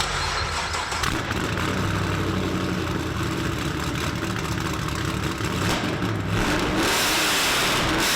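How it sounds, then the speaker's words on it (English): A loud LS3 V8 engine in a 2015 Camaro 1LE track car revs hard and roars continuously up close, its deep rumble rising and falling through repeated throttle blips. "Time to fire up that Thompson built LS3 and let that beast sing"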